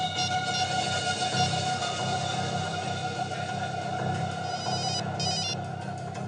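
A telephone rings with a continuous trilling electronic bell, steady and moderately loud, with a sharper warble near the end and no talking.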